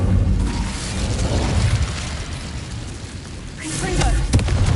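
An Incendio fire spell in Hogwarts Legacy erupts in a loud, rumbling whoosh of flame that swells and fades, with a sharp burst near the end and some speech mixed in.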